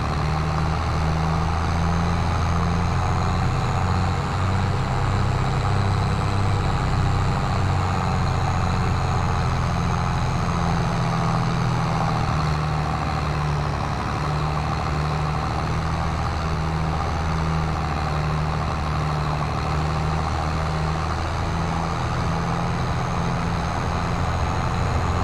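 A tractor engine in Farming Simulator 22 runs with a steady, low, droning hum that holds unchanged for about twenty-five seconds, close and fairly loud, with no voices.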